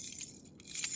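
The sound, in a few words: house keys jangling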